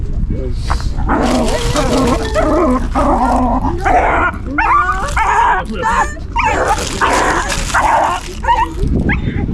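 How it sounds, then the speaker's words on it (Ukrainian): Several dogs fight, with snarling, yelping, whimpering and high yips that come in dense, overlapping bursts. The sound is loud and close and continues for the whole stretch. "Битва собак."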